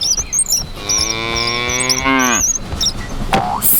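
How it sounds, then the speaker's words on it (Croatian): A cow gives one long, loud, drawn-out moo that falls in pitch toward the end, with faint high chirps and bird-like sounds scattered around it. "Krava."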